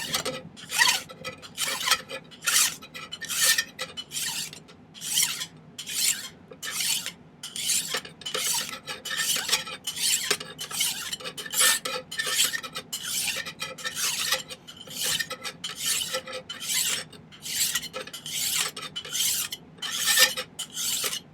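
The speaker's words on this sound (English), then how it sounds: "when I file it, it'll be filing away the deformation that's created by pinching it" A hand file rasps back and forth across a silver step ring being shaped for a ruby setting, making steady rhythmic strokes of about two per second, close and crisp over roughly twenty seconds with no talking.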